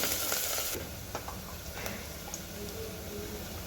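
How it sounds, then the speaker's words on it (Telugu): Onions, coriander, mint and curry leaves frying in a pan for a tamarind rasam: a continuous soft sizzle with faint stirring clicks and scrapes, heard close and quiet throughout. "ఫ్రై చేసుకోవాలి ఆనియన్స్ కొత్తిమీర పుదీనా కరివేపాకు గోల్డ్ కలర్ వచ్చే వరకు వేయించుకోవాలి"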